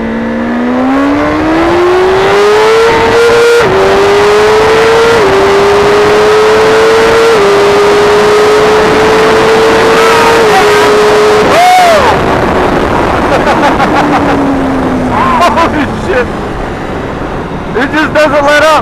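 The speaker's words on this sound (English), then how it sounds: "I kind of hit the rev limiter in first gear" A 2016 BMW S1000RR motorcycle engine screams loudly and steadily, rising in pitch as it accelerates through first gear, sitting at the rev limiter with a brief dip, then shifting and falling away, with a rider talking over it.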